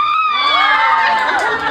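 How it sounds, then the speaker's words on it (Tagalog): A group at a Christmas party game screams loudly and shrilly together, a dense burst of overlapping high voices lasting a second or two, close and intense. "Lakas na sigaw."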